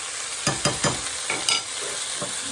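Sardines stirred into noodle soup in a pot, a few scraping stirs of a utensil against the pot over a soft sizzle, close and fairly quiet with no talking.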